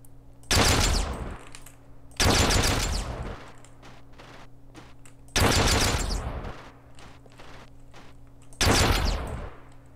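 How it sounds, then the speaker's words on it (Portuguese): A shotgun in a video game fires four loud, booming shots spaced a couple of seconds apart, each with a short decaying tail, over a steady low electronic hum. "a Swan Off tem o mesmo som da da shotgun normal"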